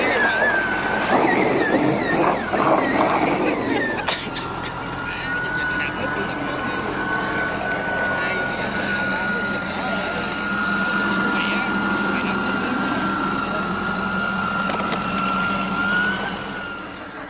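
A model boat and a model tug race under power, their engines droning continuously for the whole stretch, with a sustained high whine, as someone talks over the noise.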